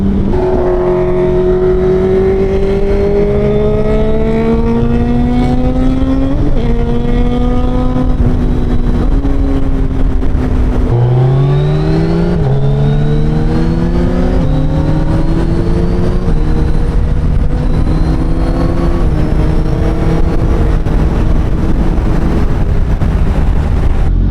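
A Suzuki Hayabusa motorcycle engine revs hard inside a tunnel, its pitch climbing and dropping through repeated throttle blips and gear changes, loud, close and echoing, with no talk.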